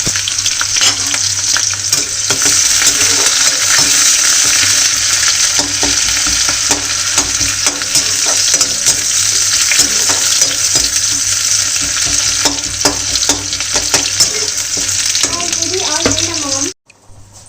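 Onions, green chilies, curry leaves and coriander leaves hit hot oil in a home kitchen while pohа is being made, a loud continuous crackling sizzle that runs steadily before cutting off abruptly near the end.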